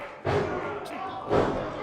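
A wrestler slammed onto the ring mat at an independent wrestling show, two heavy thuds about a second apart, loud and close, with an arena crowd murmuring underneath.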